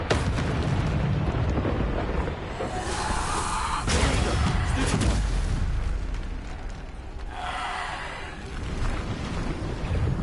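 Repeated Bombarda spell blasts in the Hogwarts Legacy video game, booming explosions and bursts recurring over a steady rumble of game effects, no talking.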